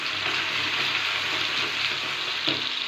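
Dry onion frying in a hot pan with turmeric over a lowered gas flame, a steady close hiss and sizzle with light stirring scrapes, no voices.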